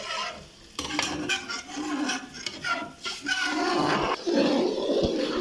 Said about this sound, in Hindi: आपका जो चमचा है वो चलते रहना चाहिए